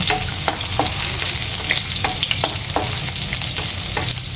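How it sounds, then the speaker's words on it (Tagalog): Meat sautéing in hot oil in a pan, a steady loud sizzle with regular clicks and scrapes from stirring, up close and without talk. "igisa-gisa lang natin"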